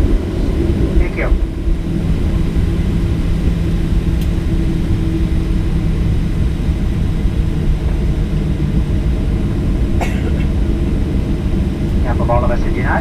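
Steady low rumble and whine inside the cabin of a United Airlines Boeing 737-824 taxiing after arrival, continuous throughout with a few faint clicks and clatters, while a voice speaks over the cabin noise.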